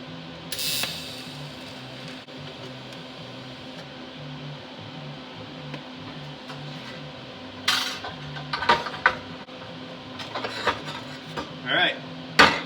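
Metal clamps released from a freshly tack-welded workpiece clatter with a few sharp metallic clanks and rattles late on, over a steady low shop hum.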